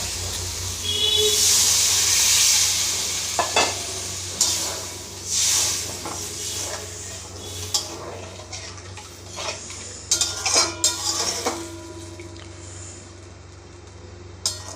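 Water tipped into a pan of fried, oil-releasing masala for a curd catla fish curry sets off a hiss and sizzle, mixed with close stirring and the clink of utensils against the pan, with no talking.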